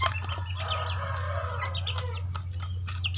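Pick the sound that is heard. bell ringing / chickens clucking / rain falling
chickens clucking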